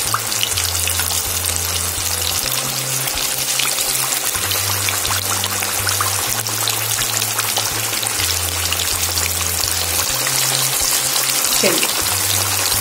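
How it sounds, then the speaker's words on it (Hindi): Fish fingers fry in oil over a medium flame, giving a steady, even sizzle and crackle that runs unbroken through the whole stretch with no talk, while a low hum sits underneath. "चलिए, अब हम इसको फ्राई होने देंगे हल्की आंच पर, मीडियम सी आंच है"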